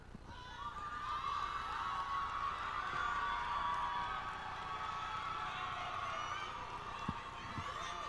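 An audience at the 2021 graduation ceremony of Albany Leadership Charter School for Girls cheers and applauds the graduates. High whoops and shouts swell into a steady, fairly distant roar, with a few sharp claps near the end.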